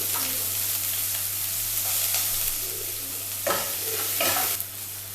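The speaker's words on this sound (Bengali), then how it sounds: "তেলটা আমার গরম হয়ে গেছে, আমি এখানে দিয়ে দেবো 1 চামচা পেঁয়াজ কুচো" Spoonful of chopped onion dropped into hot oil, frying with a steady, close sizzle and occasional stirring scrapes, no voices.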